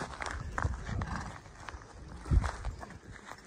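Young horses' hooves clip-clop on the ground in an uneven walking rhythm, close by, with a couple of heavier thuds and some background noise.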